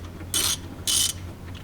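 A ratchet clicks in two short bright bursts while loosening a 17 mm oil drain plug on a John Deere 1025R compact tractor, close and crisp over a low background hum.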